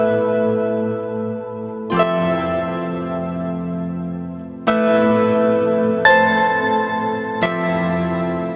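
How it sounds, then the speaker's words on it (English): Reverberant harp chords passed through reverb and a compressor, sidechained to a synth bass so the sustained harp tone dips and pumps as new notes strike at irregular intervals. "And the whole harp is going to be compressed when the synth plays."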